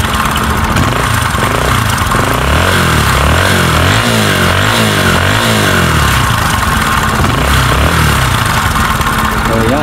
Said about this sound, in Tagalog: Parang lahi talaga ng mga Bajaj yung mga may sound na ganyan.